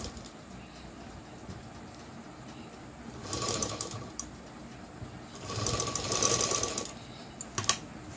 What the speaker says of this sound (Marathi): तर आता डबल शिलाई करून घेते.